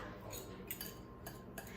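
Spoon stirring and breaking up sugar in a mixing bowl while making banana chocolate chip muffins, giving quiet, close scraping and light clinks against the bowl at irregular intervals.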